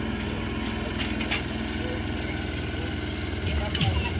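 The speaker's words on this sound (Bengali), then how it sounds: "এই পাশ দিয়ে যে পদ্মা নদী দিয়ে ট্রলার যাচ্ছে" A trawler boat engine drones steadily as it passes on the Padma river, a continuous low rumbling hum heard from a moderate distance with little change in level.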